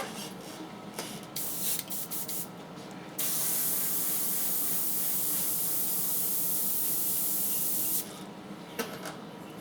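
An airbrush sprays runny water-based Auto Air paint in a steady, close hiss lasting several seconds, framed by shorter sputtering bursts at the start and end, with no talking.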